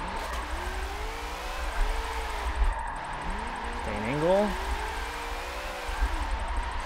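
Drift car in the Forza Motorsport 7 video game, its engine revving and falling as the tires squeal through sliding tandem drifts, with someone talking over the game sound throughout.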